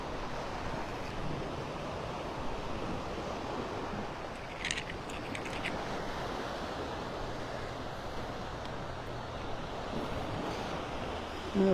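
Steady ocean surf washes onto the beach at Wiggins Pass in North Naples, Florida, a continuous broad roar of breaking waves with some wind buffeting the microphone and no voices.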